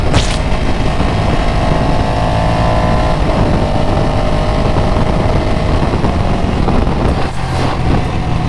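A Ducati Panigale 899 motorcycle being ridden, its engine and road noise holding a steady loud drone for the whole stretch with no clear gear changes, and a slight dip near the end.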